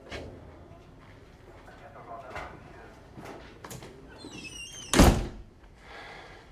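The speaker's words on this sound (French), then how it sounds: "Et tu fermes la porte?" A door shuts with one sharp thunk near the end, heard under quiet conversation in a French-language TV drama scene.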